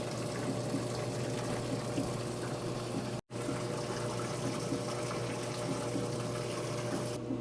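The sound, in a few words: used washing machine filling with hot water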